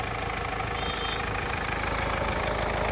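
A motorbike engine idles steadily at close range, a continuous dense rumble with even mechanical ticking and no voices.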